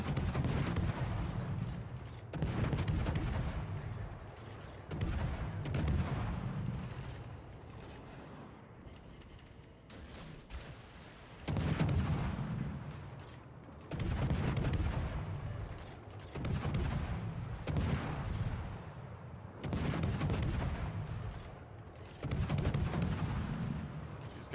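Heavy naval guns boom in the World of Warships game, fired by a Kitakaze destroyer in random battles. About ten powerful booming salvos come every two to three seconds, each one loud and rolling with a long rumbling tail.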